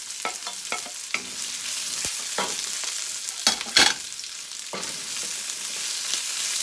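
Ginger fries to golden brown in a pan for tinolang manok, a bright close sizzle with stirring scrapes, and a louder burst of hissing as onion is added partway through.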